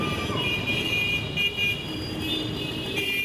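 Busy city road traffic in India, a continuous blend of engines and rumbling vehicles with faint horn toots in the mix, no talking.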